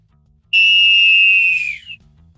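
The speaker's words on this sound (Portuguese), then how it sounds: "Apito final no Boleirão de hoje." A single long, loud referee-style whistle blast sounds alone for over a second, then trails off with a brief fading tail.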